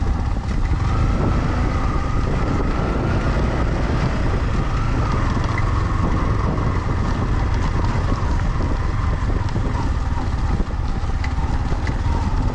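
Steady, strong, cold wind roars and buffets the microphone in snowy, below-freezing Spiti, a dense low rumble with a hiss over it, without a break. No one speaks.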